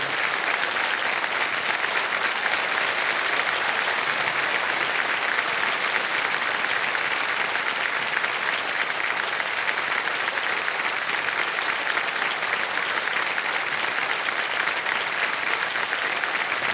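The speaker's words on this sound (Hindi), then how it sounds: "तालियां बजते रहे" A studio audience at the TV quiz show Kaun Banega Crorepati claps steadily and densely the whole time, a loud, even wash of applause with no voices.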